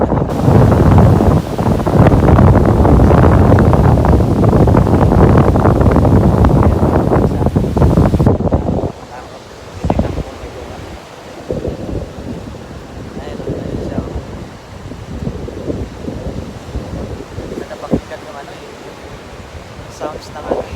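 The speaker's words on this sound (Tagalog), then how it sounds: "Kaso, biglang lumakas yung hangin." Strong wind buffets the microphone over crashing ocean surf at Old Bar Beach, loud and roaring for the first eight seconds, then easing to softer waves and gusts.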